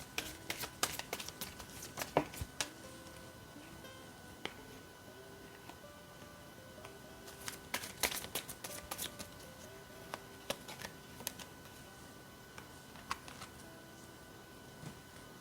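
Tarot cards shuffled and snapped in rapid bursts of crisp riffling, with pauses between, over soft steady background music.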